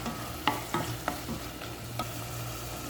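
Hotdog being stirred into a mac and cheese mixture in a pan, a few soft scraping spoon strokes over a low, quiet sizzle.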